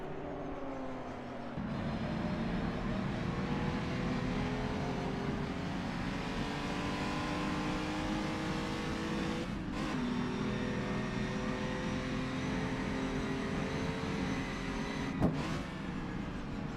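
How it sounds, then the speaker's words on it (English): Race cars roar past on the Dundrod road circuit during a Tourist Trophy endurance race, engines revving and rising and falling in pitch as they pass, with a couple of sharp passes standing out over the continuous track noise. "it's kind of just watch the cars, enjoy the noise"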